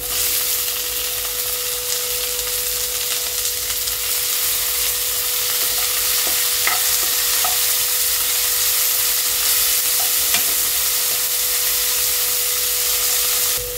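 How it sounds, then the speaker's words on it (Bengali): Okra masala with chopped tomato frying in a pan gives a steady, close sizzle and hiss that runs without a break, with a few faint clicks of stirring and no talking. "এটাকে একটু ভালো করে ভাজা করে নেব। এবার আমি দিয়ে দিলাম একটা টমেটো কুচি"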